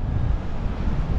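Wind at the beach in Sanur, Bali, blowing across the microphone in a brief, continuous low rumble with a faint surf-like wash behind it.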